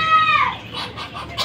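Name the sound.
Chinese ducklings being fed dinner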